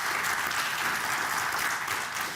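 A church congregation claps in dense, even applause that fills the room for a couple of seconds, with no voices standing out.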